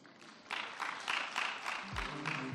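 Audience applause at a business trade fair presentation, a dense steady wash of clapping swelling after a brief lull and holding on, with a low thump near the end.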